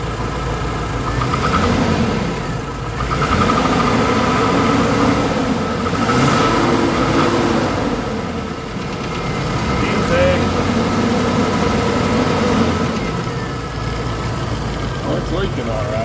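A 2001 Chevrolet engine with a leaking exhaust near the catalytic converter, rumbling steadily close by and swelling in slow waves as the throttle is pressed, with talk underneath.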